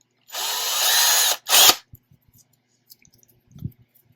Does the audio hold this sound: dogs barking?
no